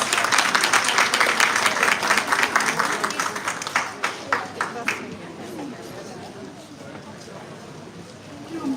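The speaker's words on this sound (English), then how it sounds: "I want a big round of applause." An audience at a college event in London applauding loudly, the dense clapping thinning into scattered claps before dying away as a voice speaks over the tail.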